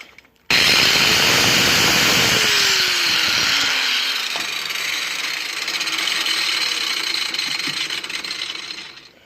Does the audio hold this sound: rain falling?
no